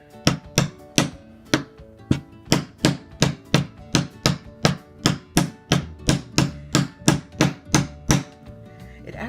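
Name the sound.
stamp tapped onto soap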